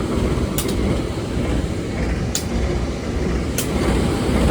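The Tawang Alun passenger train rushes past at Pondok Jember during a crossing, heard from aboard another train as a loud, steady rumble with a few brief high clanks.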